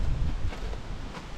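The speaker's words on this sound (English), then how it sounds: "And it's windy out here, guys." Steady outdoor wind buffeting the microphone beside a truck camper tailgate, a continuous low rumbling gust that stays loud throughout with no talk.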